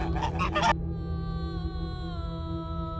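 Ducks in the Iraqi marshes give a brief burst of honking calls at the start, then fall away beneath a steady engine drone with a tonal whine that runs through the rest.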